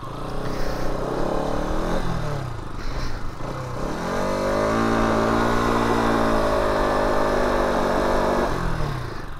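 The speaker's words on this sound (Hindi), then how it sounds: "मारा बर्नआउट" Bajaj NS200 motorcycle engine revving hard for a burnout, loud and close, a sustained rising and falling rev with steady held throttle through the middle, alone without talk.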